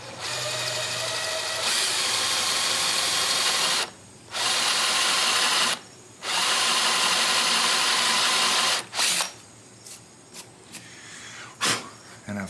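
Power drill fitted with a bit drills in long, loud, steady bursts separated by brief pauses, then gives way to scattered short knocks and handling clatter.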